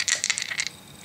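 Small dice clatter and rattle in a quick burst of light clicks, rolled for an attack in a Great War board game, loud at first then settling within about a second.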